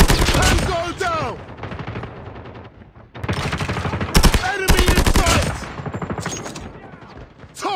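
A PP19 Bizon submachine gun fires in Call of Duty Mobile as loud rapid automatic bursts, one at the start and more through the middle, broken by brief quieter gaps.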